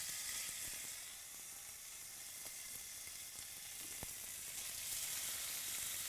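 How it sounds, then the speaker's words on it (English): Pork chops searing in a hot oiled skillet make a faint, steady sizzle with a broad hiss and occasional small pops throughout, without any voices. "We're going to go in with our pork chops. We're going to sear them"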